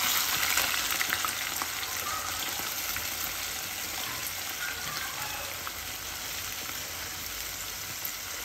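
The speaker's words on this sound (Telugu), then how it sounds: "రొయ్యలు పచ్చి వాసనతో పొయ్యేలాగా వేయించుకోవాలి." Prawns frying in a pan for a spicy prawn masala curry, a steady hissing sizzle with light stirring scrapes, fairly close but moderate in level, no speech.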